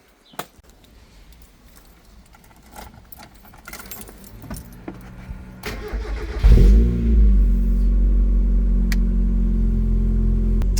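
A Mazda MX-5 engine, worked on for its coolant system, starts and settles into a steady idle to warm up, a loud constant drone, after keys jangle and a few clunks.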